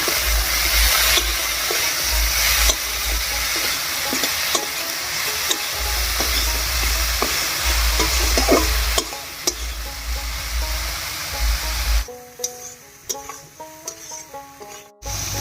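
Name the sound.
brinjal frying and being stirred in a pan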